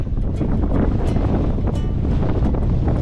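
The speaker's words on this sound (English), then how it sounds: "A wee bit of a shame with the wind right enough." Strong wind roars continuously into the microphone on a Scottish Highland mountain, loud and gusty throughout, with no voices.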